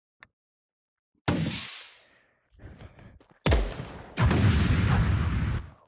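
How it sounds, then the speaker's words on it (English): Fireworks at a big outdoor display: a sharp distant pop, then several loud booming bursts with rumbling, crackling tails that swell and fade, one long sustained roar near the end. "Oh my gosh, look at my fireworks!"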